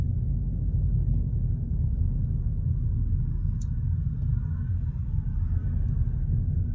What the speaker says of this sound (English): That car is completely on fire.